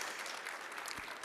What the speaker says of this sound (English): Let's give applause here in between for good speech.